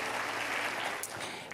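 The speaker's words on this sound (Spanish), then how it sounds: "Dale un aplauso grande por el que está al lado" A church congregation bursts into brief applause during a sermon, a dense, busy patter of many hands clapping at moderate distance.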